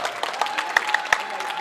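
Crowd clapping at a high school basketball game between Fremd and Conant, a light scattered patter of hands with a few sharper claps, fairly faint and brief.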